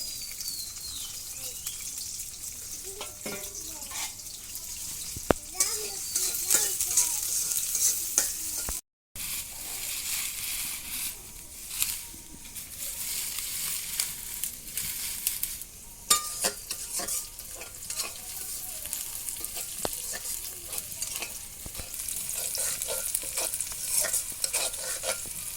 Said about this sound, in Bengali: এই তোমার মা খিচুড়ি রান্না লাগছে